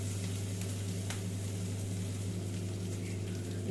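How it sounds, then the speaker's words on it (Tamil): Ridge gourd and egg stir-fry sautéing in a pan: a continuous, even, moderately quiet sizzle with a low steady hum beneath it and faint stirring, no speech. "நல்லா வதங்கட்டும்"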